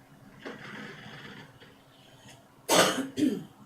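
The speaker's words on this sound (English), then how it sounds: "Excuse me while I cough." A person coughs twice in quick succession near the end, loud and close, after a softer throat noise earlier in an otherwise quiet room.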